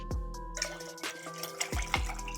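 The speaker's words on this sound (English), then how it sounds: "You're going to add your filtered water into the gooseneck kettle." Filtered water is poured into a gooseneck kettle for V60 pour-over coffee, a close splashing stream with clanks of the kettle over a low hum.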